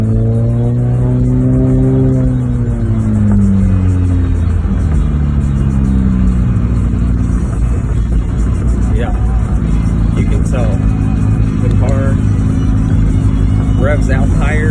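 A Honda CR-Z with a KTuner V2 tune accelerates, its engine rising steadily in pitch through the revs with a gear change partway, heard as a loud, continuous drone, apparently from inside the car.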